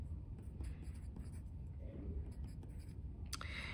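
Pen or marker scratching out equations by hand, steady faint scribbling strokes in a quiet room with a low background hum, ending with a brief sharper tap.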